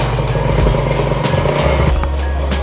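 A Ninja motorcycle leaves the RK Speed workshop, its engine rumbling loud and close with a deep, uneven throb over the short stretch.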